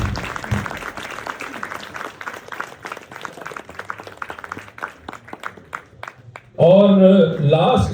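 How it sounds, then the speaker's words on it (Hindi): An audience claps after a stage play, with scattered, steady hand claps running under a voice, followed near the end by a sudden burst of loud music. "तो जमाल मुजीब कुरैशी के लिए मैं तालियां बजा रहा हूं"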